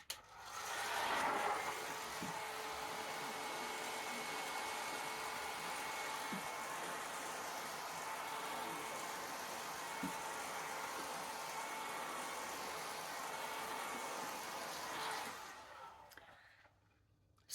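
A hair dryer blows steadily on hair for about fifteen seconds, a loud continuous rush with slight airflow changes, then cuts off near the end.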